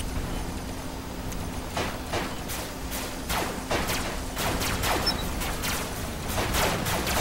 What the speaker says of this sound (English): I'm shooting these lasers across the map